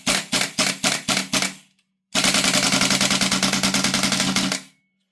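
Marksman IX AR9 airsoft gas blowback rifle fed from a Maroo pistol magazine: five or six separate sharp shots, then a fast continuous burst of rapid cracking shots lasting over two seconds, loud and close, with no voices.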